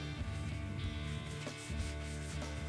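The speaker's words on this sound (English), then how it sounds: "I just had to hand sand this to get it nice and straight." A 5160 steel Bowie knife blade being hand sanded, close and quiet, with repeated rubbing strokes in an uneven back-and-forth rhythm and no talking.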